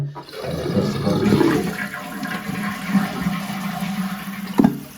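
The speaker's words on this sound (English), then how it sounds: "when you're depressing these push rods, that actually presses these individual buttons for flushing" A dual flush toilet flushes on its smaller liquid-waste button, a close rushing gush of water that swells, churns steadily as the bowl drains, then tapers with a brief gurgle and clunk near the end.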